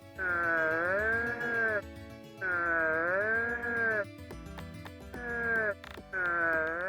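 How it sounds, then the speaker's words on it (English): In the Digital Tamers 2 video game, the creature Belphemon lets out long, deep, wavering croaking cries, three drawn-out calls separated by brief gaps with clicks and a short fourth cry at the end. "Belphemon sounds like this"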